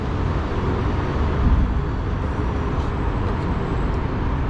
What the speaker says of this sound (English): And fucking loud traffic.